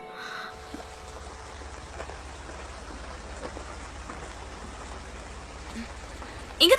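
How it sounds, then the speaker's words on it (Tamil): Steady rain pours down outdoors as a continuous soft hiss that fills the whole stretch, with a brief tonal sound at the start and a louder burst right at the end. "இங்க மழை பெய்யுது பாரு"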